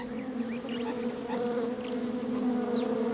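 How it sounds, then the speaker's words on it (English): Cactus bees (Diadasia rinconus) buzz steadily in the Sonoran Desert, a continuous close hum with overlapping wingbeat tones as individual bees pass near. "An astonishing insect called Diadasia rinconus, the cactus bee."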